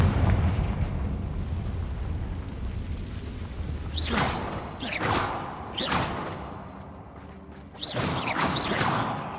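A Confringo spell fired repeatedly in Hogwarts Legacy, heard as four loud explosive bursts spaced about a second apart over a low, steady game rumble.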